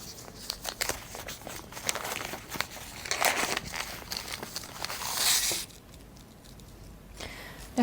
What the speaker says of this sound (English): That's the oil paper to wrap it up.